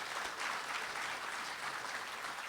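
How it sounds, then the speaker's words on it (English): A lecture audience at a Gettysburg Foundation event claps in steady, continuous applause, a fairly distant wash of many hands with no voices. "So big round of applause."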